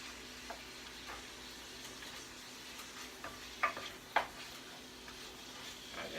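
Ground meat cooking down in a pan for a baked pasta dish, a steady soft sizzle and hiss throughout, with a couple of sharp clicks of a utensil against the pan, fairly quiet with no talking.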